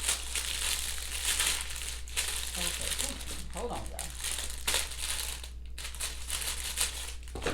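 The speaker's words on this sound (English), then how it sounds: "Sorry y'all for the crumpling" Packaging crumples and crinkles steadily while unboxing a beauty haul of lip liners and makeup brushes, a close, continuous rustle running throughout as someone talks over it.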